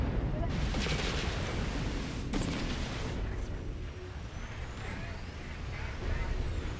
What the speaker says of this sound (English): Incoming torpedoes.